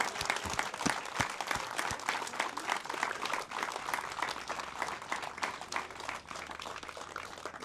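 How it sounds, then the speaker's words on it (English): Gathering at Beehive applauds the staff, sustained crowd clapping with sharp close claps over a dense wash of hands, steady and fairly even throughout. "I want all of us to raise our hands and applaud every single worker here at Beehive"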